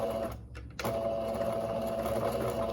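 A sewing machine runs a gathering stitch along a ruffle for a baby romper, giving a steady close mechanical whir that briefly dips near the start and then hums on evenly.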